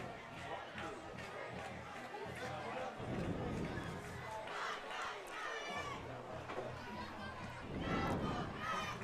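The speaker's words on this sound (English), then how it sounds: "There's the happy Wolfpack cheerleading squad. A lot to be cheering about tonight." The Whiteville Wolfpack cheerleading squad and the home crowd cheer at a night high school football game against West Columbus. A steady, distant roar of voices and chatter lasts throughout, with swells of shouting.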